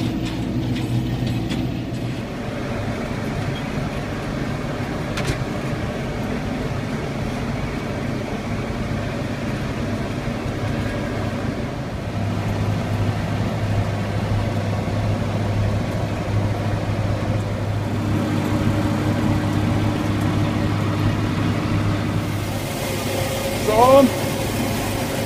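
A tractor engine runs steadily beside a Seppi mulcher on a hillside pasture, a continuous low mechanical drone with rattling, lasting throughout with a short clatter near the end.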